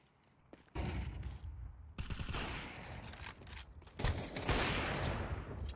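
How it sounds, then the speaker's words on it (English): A flashbang grenade goes off in a video game as a sudden loud bang, followed by several seconds of sustained, crackling explosive roar with further bursts, close and dense. "Flashbang."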